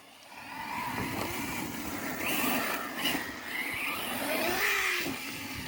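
An Arrma Mojave 6S RC car accelerates with a steady, loud high-pitched electric motor whine that rises and falls as it speeds along, with gravelly tyre and surface noise throughout and no voices.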